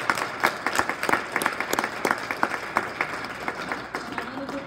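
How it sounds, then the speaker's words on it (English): Audience applause for parents at a 2019 volleyball recruiting panel, with distinct individual claps standing out in a modest, uneven round that sounds like a smallish room. "round of applause for our parents."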